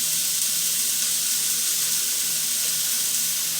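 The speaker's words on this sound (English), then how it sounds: "we cook the patty 1 minute on each side" A beef patty for a cheeseburger sizzles steadily in a pan, a continuous hiss holding at an even, fairly loud level throughout with no talking.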